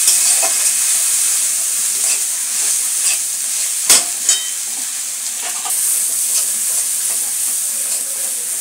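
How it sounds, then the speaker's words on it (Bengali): Spice paste with salt and powdered spices stir-fried in a pan for a dry lotta fish curry: a steady close sizzle runs throughout, with scraping stirs and a couple of louder clatters near the middle, no talking. "এবার এটাকে ভালো করে কষবো মশলাটাকে।"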